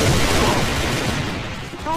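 Gunfire from the online shooter AVA (Alliance of Valiant Arms), a dense continuous spray of rapid shots and impacts filling the whole stretch, with a voice talking over it.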